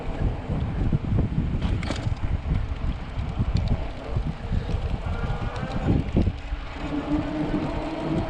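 Rushing wind noise buffets the microphone while riding a Gotrax F1 ebike outdoors, a loud, continuous low roar with gusty swells and faint road hum beneath, and no talking.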